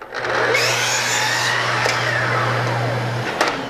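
A miter saw whines up and cuts a mating miter through wood molding in one loud, continuous pass of about three seconds, then spins down, with no voices.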